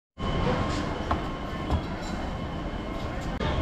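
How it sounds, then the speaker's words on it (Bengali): A passenger train rolls into a railway junction, a steady close rumble of wheels and carriages holding through with a few faint clanks and squeals, no talk. "ট্রেন এখন এসে ঢুকলো সাঁতরাগাছি জংশনে"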